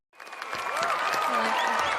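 An audience breaks into warm applause at a live music event, the clapping swelling quickly and holding as a dense, loud wash with a few cheers mixed in.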